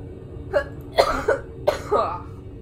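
Several short coughs from a character in the video game Drawn: The Painted Tower, in quick succession, close and moderately loud, with a faint background hum between them.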